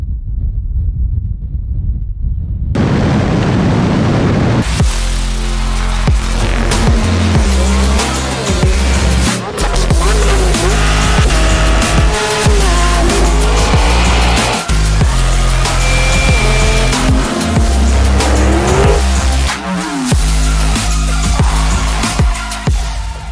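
Two electric sedans, a 1,111 horsepower Lucid Air Dream Edition and a 1,020 horsepower Tesla Plaid, launch in a quarter-mile drag race. Loud, sustained road and wind roar follows a quiet start, with rumbling thumps and occasional tire noise throughout.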